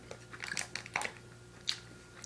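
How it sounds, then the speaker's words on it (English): Black Forest fruit snacks with juicy burst centers are bitten and chewed near the ear, a busy run of moist crunchy and squishy bites followed by a single sharp crunch, heard alone without speech. "Moving forward into the biting."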